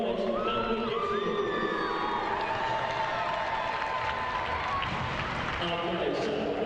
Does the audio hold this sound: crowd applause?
yes